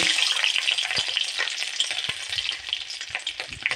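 A few garlic cloves dropped into hot oil in a pan while making an egg curry, crackling with a bright, dense sizzle that stays loud and close, with small spattering pops all the way through.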